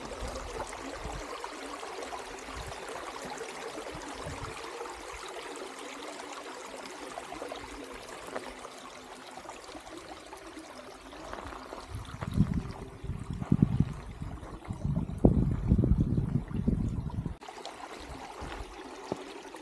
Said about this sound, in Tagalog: May batis. Ayan yung ilog.